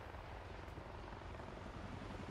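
An Osprey-like tiltrotor aircraft flying in Avatar: Frontiers of Pandora, a continuous dense rotor roar with steady low rumble, loud and unbroken, with no talk.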